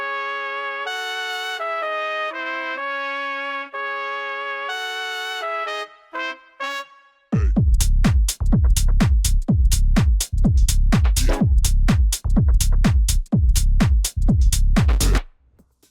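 A tech house track: a sparse melodic synth intro with short breaks gives way to a driving four-on-the-floor kick and bass groove, loud and continuous.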